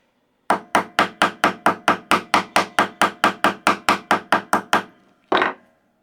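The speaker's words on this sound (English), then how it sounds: "we're going to strike the pin. A couple of swift whacks, see if that's tightened it." A hammer strikes the pin of a pair of workshop scissors held in a vise in a rapid, even run of about seventeen sharp metallic whacks. A short pause follows, then one final heavier blow, with no talk.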